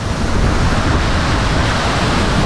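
A hidden waterfall in the Philippines roars as rushing water, a loud, close, steady broadband wash with no voices.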